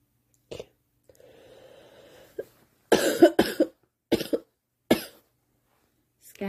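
Several harsh coughs come in short bursts, close and fairly loud, with quiet pauses and a faint murmur earlier.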